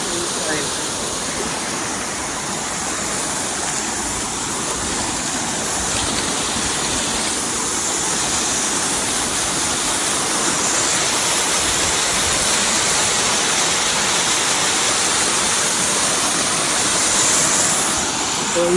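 Rushing water from a hidden waterfall, a steady broadband roar that stays loud and continuous throughout, with no clear speech over it.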